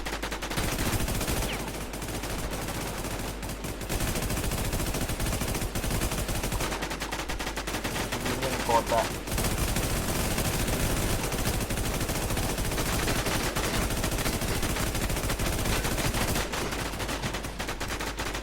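Sustained automatic gunfire in the online zombie shooter WarZ, rapid bursts repeating close and loud almost without pause across the whole stretch, with no voices.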